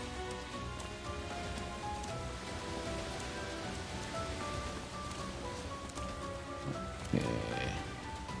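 Steady in-game rain from Atelier Sophie 2 patters continuously across the whole stretch, a dense wash of drops over soft game music, with a brief louder rustle near the end.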